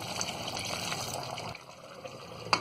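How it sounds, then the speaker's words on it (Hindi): Water pours and splashes steadily into a pressure cooker of frying mutton for a moment, then tapers to a trickle, ending with a light clink. "थोड़ी देर भूनने के बाद में 1 कप डालेंगे हम इसमें पानी"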